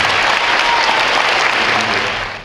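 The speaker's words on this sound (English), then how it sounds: "So let's give them a big round of applause." A big round of applause from an audience at a school anniversary celebration, dense and steady for the whole stretch, loud and close, with no talking over it.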